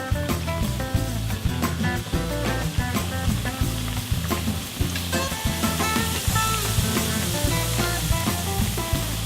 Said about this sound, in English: They should sizzle up to the top by themselves.